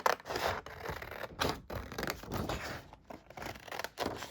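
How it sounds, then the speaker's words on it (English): Sharp scissors snip and scrape close up while cutting out a paper junk-journal embellishment with a built-in pocket, in irregular bursts of short cuts and paper rustle with no talking. "I'm just gonna cut this out"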